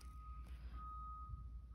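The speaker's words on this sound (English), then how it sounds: "Sorry about the beeping." A steady electronic beep tone holds at one pitch through a knitting session on stitching striped stockings, fairly faint over a low room hum, with no talking.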